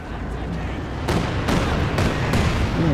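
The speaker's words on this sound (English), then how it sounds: "there goes the mortar" Mortar rounds firing in Company of Heroes 2 during a 2v2 match, several sharp booms spaced about half a second apart over a rumbling battlefield bed of distant gunfire.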